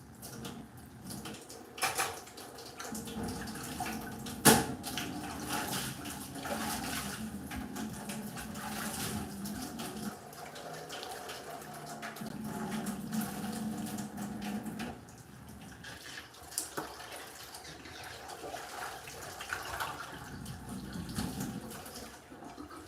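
Water runs from a slow tap into a cooking pot in a Caribbean kitchen, a steady broadband splash and gurgle that lasts throughout with small irregular bumps.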